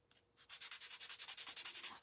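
Sandpaper rubbed back and forth over a snowman-shaped candle to flatten it, a quick even rhythm of close, dry scratching strokes, about fourteen in a row after a brief pause.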